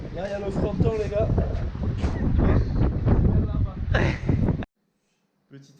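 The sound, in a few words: wind blowing into the microphone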